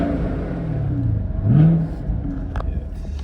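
A Chevrolet Camaro SS with a 6.2 liter engine revs once from idle, a short rising snarl that peaks and falls back to a steady rumble, close by with no talk.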